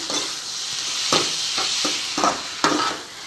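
Tomatoes sautéing with onions in a hot pan, a steady sizzle broken by repeated scraping stirs of the spatula at an even, unhurried pace, close by and with no voices.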